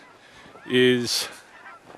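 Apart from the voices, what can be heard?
geese honking at sundown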